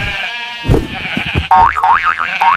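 Sheep bleat in wavering, cartoonish cries over a bright musical backing, with a springy boing sound mixed in.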